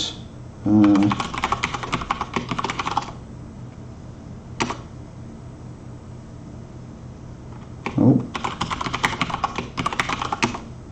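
Keyboard typing on a computer during a programming session: a burst of quick key clicks, a lone keystroke, then another rapid flurry, close and alone over a quiet room hum.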